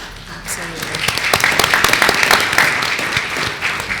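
Audience applause fills a school board of trustees meeting, a dense, steady clapping from a crowd that holds for about four seconds at close, loud level with voices mixed in.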